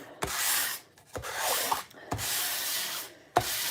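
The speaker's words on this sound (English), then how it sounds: "So I'm just going to sand down." Sandpaper rubbing hard and fast across a guitar body, in broad rasping strokes broken by short pauses and sharp knocks, close and fairly loud with no talking.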